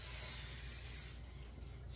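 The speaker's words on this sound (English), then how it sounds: "I'm going to take canola oil and I'm going to spray the griddle down" Canola oil sprayed in a steady, continuous hiss across a griddle while cooking birria tacos, close and fairly quiet, with no talking.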